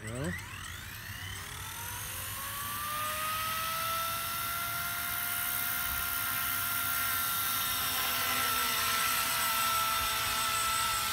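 A Blade Apache RC helicopter hovers close by, its steady high-pitched rotor and motor whine rising briefly at spin-up and then holding level and loud throughout, with no talking over it.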